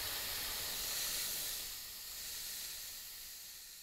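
Steam hisses from Hero of Alexandria's aeolipile in a steady, breathy rush that stays loud at first and then eases slightly toward the end, with no voices.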